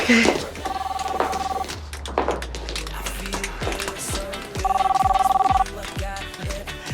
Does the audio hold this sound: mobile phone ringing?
yes